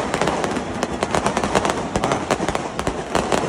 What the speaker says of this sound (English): That's a lot of fireworks, Ed.